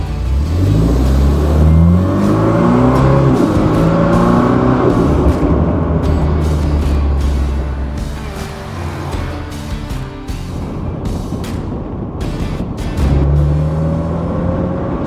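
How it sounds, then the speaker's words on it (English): A 2025 Morgan Plus 4 roadster with a BMW turbo engine drives in sport mode, its engine loud and close, rising through revs, then dropping with paddle downshifts before climbing again; steady wind and road noise throughout. "I got it in sport mode right now. I'm using the paddle, downshift a little bit."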